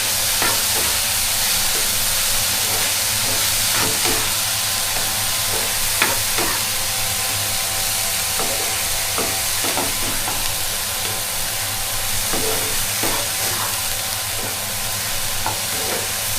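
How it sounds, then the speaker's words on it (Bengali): Broccoli and mushroom soup simmering and frying in a pan with salted water, a steady close hiss and sizzle punctuated by faint clinks and stirring taps throughout. "ब्रोकली और मशरूम सूप बना रही हूँ।"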